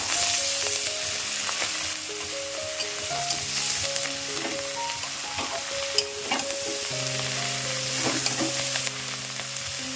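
Flat beans and pea greens with slit green chillies sizzle steadily in a pan, a continuous loud frying hiss broken by occasional stirring scrapes, with no talking.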